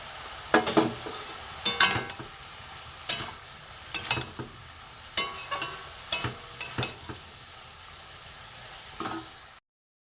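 Small chopped prawns go into a pan of cooking vegetables and are stirred in. A faint sizzle sits underneath while a spoon scrapes and knocks against the pan in short, irregular bursts. The bursts come about once a second and stop abruptly at the end.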